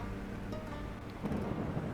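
Thunder from a lightning storm in the video game Stranded: Alien Dawn, a steady low rumble with rain-like hiss that swells slightly toward the end.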